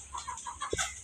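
A chicken clucks in a quick series of short, close calls, with one sharper squawk near the end, over a steady background hum.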